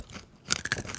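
Corn nuts crunched and chewed close to the mic, a quiet pause giving way to a burst of sharp, crackly bites and grinding chews.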